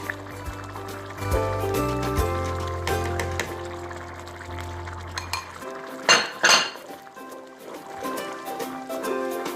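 Sour cream goes into a simmering chicken paprikash sauce in a pot, heard as metallic spoon clinks and knocks against the pot, with a soft wet stir and a couple of louder scrapes near the end.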